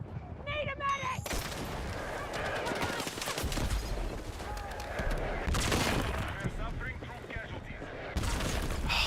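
Mortars and gunfire in a Battlefield 6 match: heavy booms and dense rattling shots keep going throughout, loud and close, while players talk over the battle.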